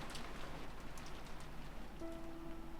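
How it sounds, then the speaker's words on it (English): Steady downpouring rain in a visual novel scene, a faint continuous hiss of drops with a soft tone entering midway, no talk. "the sound of the downpouring rain kept turning their attention towards the mystery guest"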